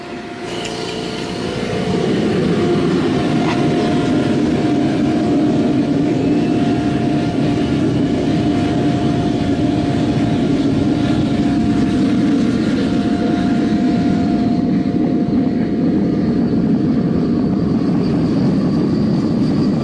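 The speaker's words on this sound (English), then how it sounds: "Put a little bit of air on it. My air pump." An air pump blows air into an oil-fired metal melting furnace, rising within a second into a loud, steady, unbroken roar that holds close and constant throughout.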